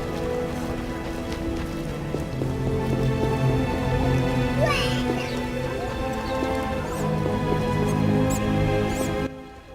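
Light drizzle falling in the video game The Witcher, a soft steady patter of rain across the whole stretch over a low ambient game background, with faint tonal music underneath.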